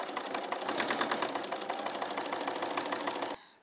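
A sewing machine stitches chenille around curves in a fast, steady rattling rhythm, close and continuous, then stops abruptly near the end.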